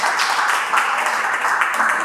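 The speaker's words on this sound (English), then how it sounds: "I also want to give a round of applause for Joseph." Applause for Joseph, a continuous patter of many hands clapping, moderately loud and even, with no clear break throughout.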